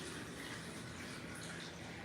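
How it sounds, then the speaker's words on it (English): A container being filled with water at a kitchen tap during meal prep, a steady close pour of rushing water heard alone. "Let's fill it with the water."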